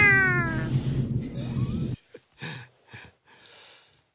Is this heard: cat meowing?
yes